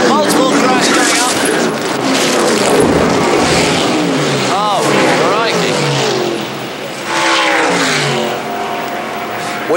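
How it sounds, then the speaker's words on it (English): Stock cars lose control and crash through the fourth turn at Daytona, sliding and skidding into the wall with loud engine roar and tire noise throughout, under continuous excited race commentary. "several cars out of control in the fourth turn, sliding, slithering into the wall, bouncing into the infield"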